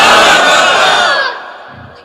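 A large crowd at a religious gathering shouts the takbir in one loud, sustained collective roar that fades out after about a second and a half.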